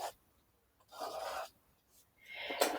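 A marker or chalk draws a line across hoodie sleeve fabric, producing two short dry scratchy rubbing strokes separated by silence, close and fairly quiet.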